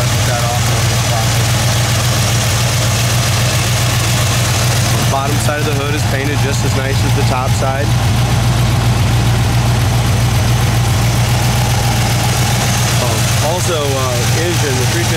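A 350 V8 engine in a restored 1955 Chevy Bel Air idles steadily with a deep, continuous rumble, while someone talks over it close by.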